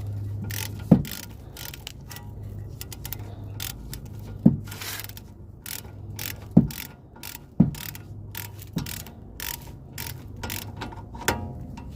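A ratchet socket wrench with a 13 mm socket tightens a rear brake bolt on a VW Polo. Sharp, close metallic clicks come at irregular intervals over a low steady hum, with no talk.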